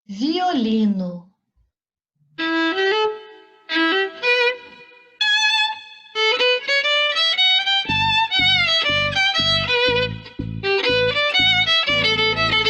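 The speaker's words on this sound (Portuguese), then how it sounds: "Violino." A brief voice-like sound, then a violin plays a lively melody, with rhythmic low accompaniment entering later; bright and up close.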